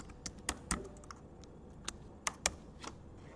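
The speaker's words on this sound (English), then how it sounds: "Let's enter there using your password," Password typed on a computer keyboard, a sparse run of quiet, uneven key clicks with a few sharper taps, close by and faint, with no speech.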